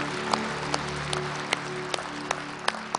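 A church congregation claps in thanks, a soft steady patter of many hands with scattered sharper claps standing out, fairly distant and even throughout.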